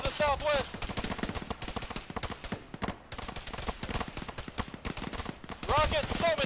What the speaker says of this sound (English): Rockets! So many rockets!